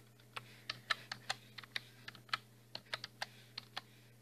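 A password is typed on a computer keyboard: a quick, uneven series of crisp key clicks, close and fairly quiet, over a low steady hum.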